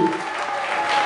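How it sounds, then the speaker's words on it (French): Brief burst of audience applause for young dancers at a live music and dance performance, dense clapping filling the room, heard for only a moment. "On les applaudit"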